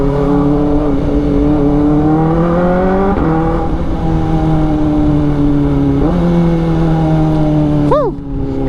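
A Kawasaki Ninja ZX-4RR with a straight pipe exhaust revs loudly and close by, its engine note holding high and climbing in repeated surges before a sharp blip and a drop near the end.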